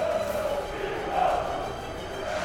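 A football stadium crowd cheers for Go Ahead with a sustained roar of massed voices that swells briefly midway, heard from a distance and steady throughout.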